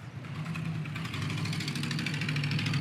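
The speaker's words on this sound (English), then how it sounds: "That Ford sounds like it needs some manifold gaskets or something." A car engine idles with a steady low hum and a rapid ticking, puffing pulse, like exhaust escaping, heard up close.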